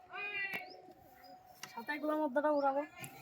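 Pigeons, high-flyer birds kept at a home loft, coo and chirp close by in a few soft, repeated calls, with faint background voices and light knocks in between.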